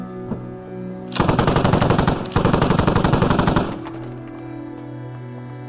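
Rapid automatic gunfire in the video game Squad rattles out in two dense back-to-back bursts, loud and close, before a quieter tail of ambient game sound.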